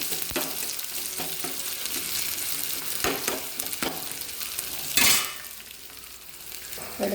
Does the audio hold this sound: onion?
yes